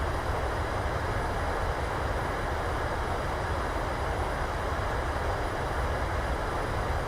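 Airliner rolling out and decelerating on the runway after landing at Calgary in Microsoft Flight Simulator, a steady broadband engine and rumbling roar held at constant loudness throughout, with no talk.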